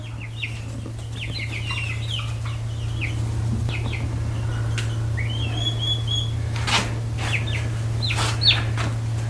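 Hens and chicks on a homestead cluck and chirp in short bursts over a steady low hum, with scattered bird calls throughout.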